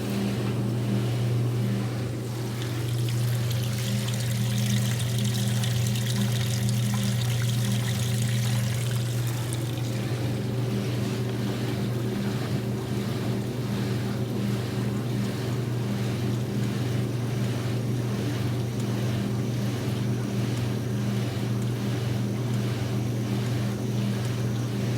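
A washing machine loaded with towels drains and winds up into its spin cycle, a steady low motor hum and watery rush that shifts as draining gives way to spinning, continuous with no talk.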